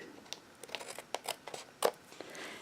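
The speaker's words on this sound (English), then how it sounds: "I'm going to go ahead and cut this section" Scissors snip through paper for a handmade card with the Everything is Rosy suite, a quick series of close, crisp cuts and rustles, fairly quiet with a sharper snip near the end.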